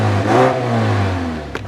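A Mazda Skyactiv 2.5-liter four-cylinder engine with 184 horsepower, in a Grand Touring model, revs up loudly close by, then its pitch slowly falls away as the revs drop.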